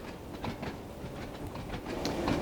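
A train in Train Sim World 2 rolls steadily uphill along rails on the Isle of Wight line from Ryde Pier Head to Shanklin, with a continuous rumbling clatter and faint rhythmic clicks, growing slightly louder toward the end.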